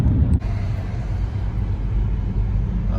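A car drives along a road with a steady low engine and road rumble heard from inside the cabin, continuous and fairly loud, after a brief knock near the start.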